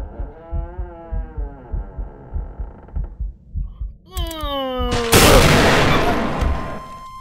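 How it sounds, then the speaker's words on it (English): Gunfire erupts in the Roblox horror game Repleh County Archives, a sudden loud burst of shots crashing in near the end after a stretch of thumping, heartbeat-like pulses and rising tonal game music. "As soon as we opened the door, they fucking shot us."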